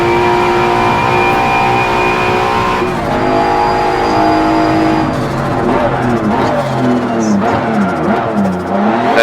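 An inline-four turbo car engine revs loudly, its pitch climbing and falling through gear changes, with a faint squeal of tires partway through.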